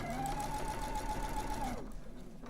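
Sewing machine stitching fabric across a seam, running in a fast, even mechanical whir for about two seconds before stopping.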